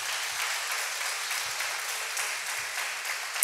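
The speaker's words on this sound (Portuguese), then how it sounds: "Somente os que creem aplaudam o Senhor bem forte no nome do Senhor Jesus" Church congregation clapping steadily and fairly loud, a dense continuous wash of many hands with no talk over it.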